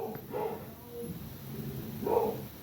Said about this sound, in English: I'm sorry if you can hear my dog barking in the background there